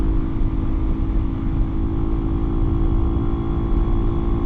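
Steady engine drone and wind rush from a Lifan Xpect motorcycle cruising at about 65 mph on the road, a constant loud hum with no change in pitch and no voices.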